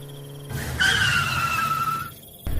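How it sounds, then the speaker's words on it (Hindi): A car skids to a halt with a sharp, sustained tire squeal about a second and a half long, loud and close, then cuts to quiet. "क्या हुआ, गाड़ी क्यों रोक दिया तुमने?"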